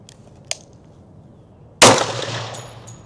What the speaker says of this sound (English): So we're just going to shoot these 5 and see how this rifle shoots it.